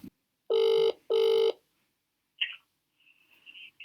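Two loud, clear telephone rings in quick succession, each a bright buzzing double tone lasting about half a second, followed by faint clicks and a thin tone with no talk.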